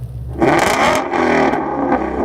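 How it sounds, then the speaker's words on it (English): Loud, continuous exhaust roar and revving from a 2016 Ford Mustang Shelby GT350R with its exhaust button engaged for a louder sound, the engine swelling and holding close by with no talk over it. "there's an exhaust button to make it louder."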